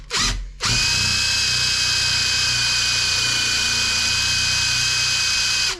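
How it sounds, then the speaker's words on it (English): A power drill drives a self-tapping screw into a van flare box on a Ford Transit AWD build, giving a short burst and then a long, loud, steady whine that runs on without a break. "you can take the self-tapping screw, you can kind of get in here and you can go reverse to heat the screw up a little bit"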